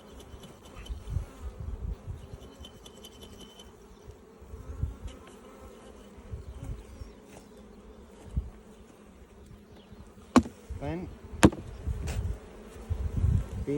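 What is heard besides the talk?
honey bees buzzing in a jar during a mite check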